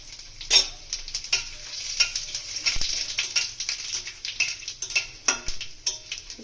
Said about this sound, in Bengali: তেল গরম হয়ে গেছে পাঁচ ফোড়ন আর শুকনো লঙ্কাটা দিয়ে দেবো